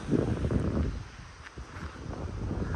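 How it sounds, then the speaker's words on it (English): Gusty wind buffeting the microphone with a low rumbling roar that swells and eases, with faint rustling in the background. "it's really windy actually"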